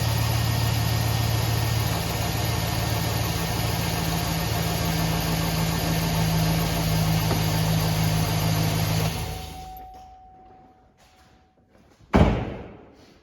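Car engine idling steadily with a constant hum during an alternator charging-voltage test, then the engine cuts off, the sound fades to near quiet, and a single door slam thuds near the end.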